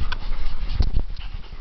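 Two dogs of very different sizes play close by, with panting, snuffling and a few soft whimpers or grunts in a busy, uneven burst.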